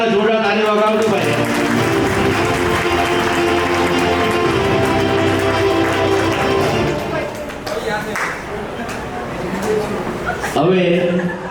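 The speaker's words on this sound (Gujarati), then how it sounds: "ભાઈ કમલભાઈ વાળા જોરદાર તાળી વગાવજો ભાઈ." Loud, sustained clapping from a community gathering's audience at an annual caste-society convention in Bardoli, honouring Kamalbhai Vanza, running steadily under music-like tones before easing off near the end.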